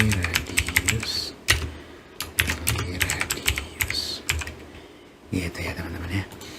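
Fast, crisp bursts of computer keyboard typing while Python code is entered, close up and busy, with clustered rapid keystrokes, a brief lull near the end, then another flurry.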